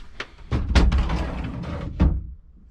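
Drawers opened and closed inside a 2003 Glendale Titanium RV, several sharp wooden thuds and a sliding rumble in quick succession, close by, with no talk.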